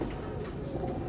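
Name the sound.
pigeons cooing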